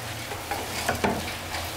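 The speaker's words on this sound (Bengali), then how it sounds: "চালটাকে আমি হালকা ভেজে নিব" Rice and lentils fry in a pan for khichuri, a steady soft sizzle broken by a few scraping stirs of a spoon.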